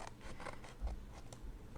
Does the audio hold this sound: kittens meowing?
no